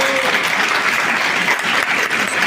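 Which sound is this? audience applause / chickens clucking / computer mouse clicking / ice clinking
audience applause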